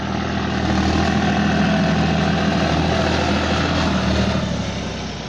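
A heavy John Deere 5050D tractor's 2,900 cc turbo diesel engine runs steadily and loudly nearby, a dense continuous rumble with a faint whine, no voices over it.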